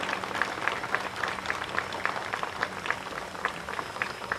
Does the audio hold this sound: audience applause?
yes